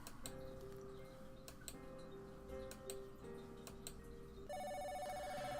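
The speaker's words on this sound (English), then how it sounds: "The phone is ringing?" A phone ringing in the video game Sakura Swim Club, a bright electronic ringtone breaking in over a soft ticking clock and quiet background music, clear but fairly low in level.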